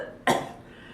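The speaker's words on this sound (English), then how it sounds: "Oh my God, I'm coughing." A single sharp, close cough bursts out once and trails off quickly, with no talking around it.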